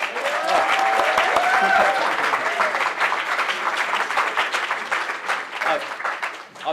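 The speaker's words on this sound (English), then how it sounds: "I've said nothing and you're already applauding" An audience at a gay Catholic youth forum applauds steadily as an evening speaker takes the stage, a thick clapping wash that slowly thins toward the end while a voice speaks over it.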